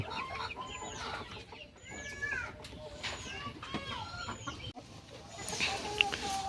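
Chickens on a poultry farm cluck and call repeatedly in short, rising bursts, close by, while a person talks underneath.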